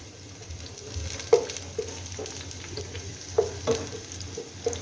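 Raw onion fries in a pan with a low, steady sizzle, broken by a few soft knocks and clinks of a utensil against the pan, with no voices.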